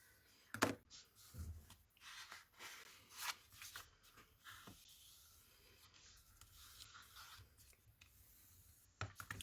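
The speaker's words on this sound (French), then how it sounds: "je vais commencer par marquer mes plis pour ne pas me tromper de sens pour ma découpe" Pencil drawn along a ruler to mark fold lines on card, close and quiet scratchy strokes in short irregular bursts with small taps and rubs between them, no voices.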